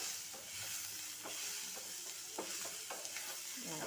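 Chopped chayote frying for palya gives a continuous hiss of sizzling in a pan, broken by repeated scraping strokes of a spatula in a loose rhythm, quiet and close with no talk.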